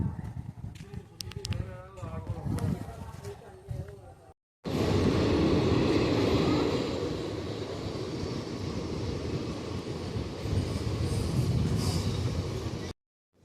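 A person talks briefly, then after a short break the Guruvayur Express train rumbles past nearby at Ariyalur railway station with a loud, continuous roar that holds steady until the end.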